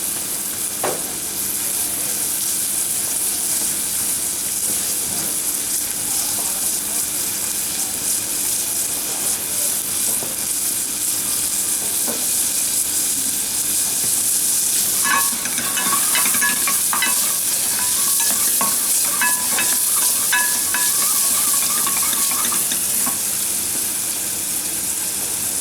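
Onions sizzle steadily in a hot pan while a utensil stirs and scrapes through them, a continuous frying hiss with clustered clinks and scraping near the middle.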